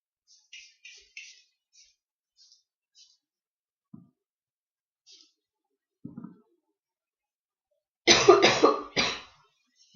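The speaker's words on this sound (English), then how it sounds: "Excuse my cough." A burst of harsh coughing lands near the end, loud and close, after a stretch of near silence broken by a few soft scattered clicks and brief low thumps.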